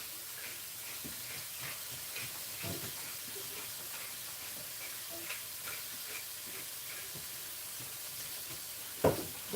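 Small trashfish frying in a pan give off a soft, steady sizzle and hiss, fairly quiet, with a few faint clicks and a sharper pop near the end.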